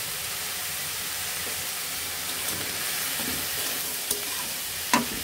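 Vegetables frying in a pan with chili powder and turmeric for a pumpkin seed bharta, giving a continuous close sizzle broken by a few sharp scraping knocks of stirring, with no one speaking.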